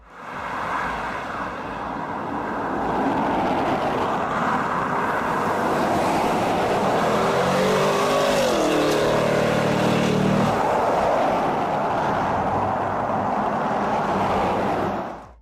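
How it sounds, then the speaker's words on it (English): A prototype supercharged Cadillac Escalade-V with an LT4 V8 accelerates at wide open throttle, a loud sustained roar with supercharger whine and rising pitch, heavy wind rush over the whole run. "a prototype of the Escalade-V undergoing acceleration at what appears to be wide open throttle"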